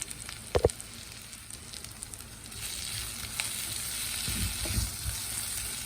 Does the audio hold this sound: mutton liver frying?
yes